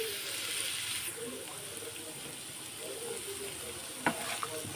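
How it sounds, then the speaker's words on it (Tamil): Small shallots fry in hot oil in a pan for prawn thokku, a steady moderate sizzle with light stirring and a couple of sharp clinks near the end, no speech. "பாருங்கள், நான் சின்ன வெங்காயம் சேர்த்துக்கிறேன்."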